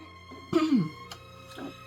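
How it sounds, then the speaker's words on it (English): A single short throat clear close to the mic, a rough voiced rasp that drops in pitch, over a quiet room hum. "Sorry about my clearing my throat all the time."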